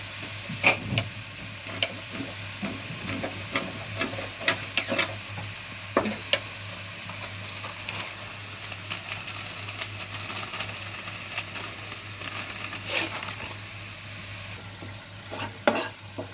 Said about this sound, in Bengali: মশলাগুলো এর সঙ্গে ভালো করে নেড়ে নেব